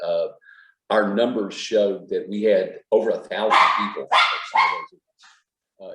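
Dogs bark in the background of a home video call while someone speaks continuously over them, the barks brief and partly masked by her voice.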